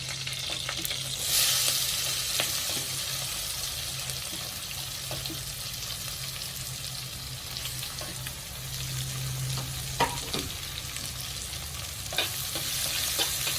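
Shallots frying in a pan for fish curry give a steady, even sizzle with a few soft clicks of stirring and a faint watery hiss behind, no one talking.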